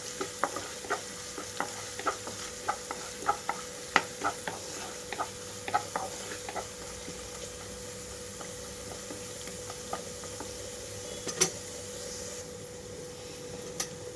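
Ginger garlic paste frying with onions in a pan over a medium flame for a tomato paneer curry: a steady low sizzle punctuated by regular spatula taps and scrapes, which thin out partway through.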